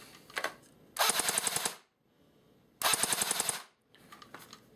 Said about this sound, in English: Let's go to full auto and get a rate of fire sound test.